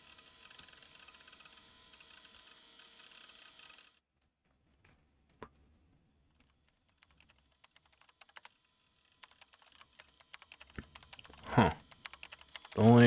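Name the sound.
keyboard clacking, visual novel game sound effect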